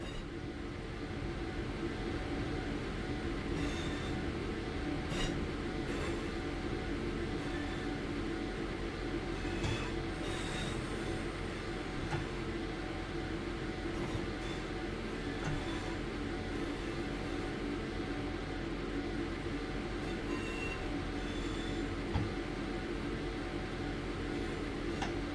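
A train rolls steadily along the track in the Train Sim World 5 video game, producing a constant broad rumble and hiss with faint rhythmic rail clicks, unbroken for the whole stretch.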